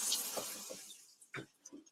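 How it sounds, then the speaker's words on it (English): Water running from a tap during a live product demonstration comparing daypacks, a soft rushing wash that starts loud and fades, broken by a few short splashy bursts near the end. "So now Jonathan is running water"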